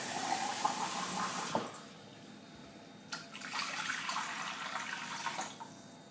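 Warm water pours steadily into a bain-marie around ramekins for a cherry, hazelnut and chocolate clafoutis, a close rushing splash that stops, then resumes for a second longer pour.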